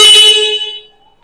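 Horn of a 2023 KTM Adventure X 390 motorcycle gives one loud, bright, sustained honk lasting under a second, then fades out cleanly with no voices.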